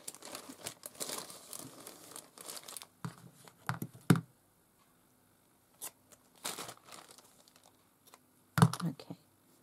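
Cheesecloth handled and torn for a wax-seal journal project, giving bursts of soft crinkling and ripping with short quiet gaps between, close and fairly faint, with no talk.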